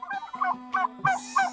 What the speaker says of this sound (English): Be like a turkey.